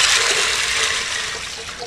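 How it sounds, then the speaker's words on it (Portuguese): Water pours steadily into a pot for cooking beans, a close, continuous splashing rush that gradually softens over about two seconds. "Coloque o feijão para cozinhar, vai a água"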